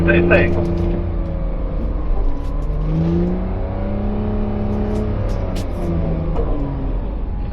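A Porsche accelerates on the Hockenheimring track during drift training, engine note climbing and sweeping steadily from inside the car, loud and continuous under a coach's voice.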